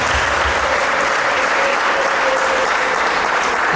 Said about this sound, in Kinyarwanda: twongere duhe Imana amashyi tubishimire, kuko uyu munsi twari tuwutegereje. Amashyi menshi cyane.